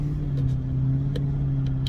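A Lexus LS460 with a modified exhaust drives along, giving a steady low engine hum and rumble heard from inside the car, with faint clicks on top.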